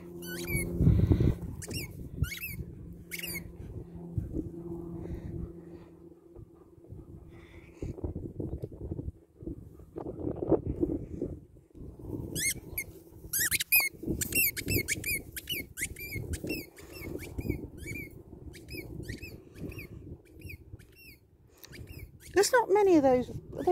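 German Shepherds and a Husky squeak squeaky toys in rapid, repeated high squeals during outdoor play, on and off throughout with bursts near the end, while people talk nearby.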